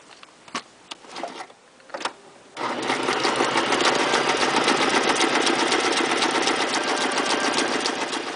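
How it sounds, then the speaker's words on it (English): A sewing machine stitches across the top of a paper envelope, starting after a few scattered clicks and taps and then running in one continuous, fast, buzzing stretch that rattles on to the end. "And then I stitched across the top."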